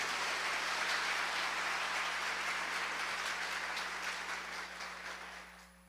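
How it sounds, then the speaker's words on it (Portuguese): Dense, steady applause from a church congregation fills a reverberant worship space, holding strong throughout and fading toward the end. "Aplauda a palavra de Deus."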